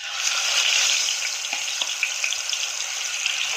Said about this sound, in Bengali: এবার মাছগুলোকে হালকা লাল করে ভেজে নেব